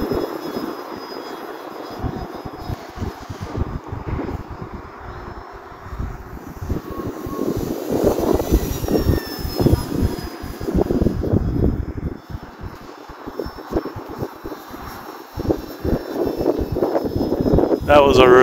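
A small airplane, apparently a radio-controlled model flown live in snowy conditions, drones overhead with a fluctuating engine while slowing with flaps deployed to land into the wind, under steady wind noise.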